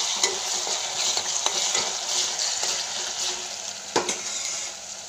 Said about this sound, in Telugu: పేస్ట్ వేస్తున్నాను, అన్నగడ్డ పేస్ట్ వేసుకుని కలుపుకోవాలి మంచిగా